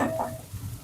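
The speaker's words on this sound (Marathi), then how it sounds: "आता कढईत असं हलवायला लागले नुसतं" Poha is stirred in a kadhai, a brief scrape of the spoon against the pan over a soft sizzle, close and short.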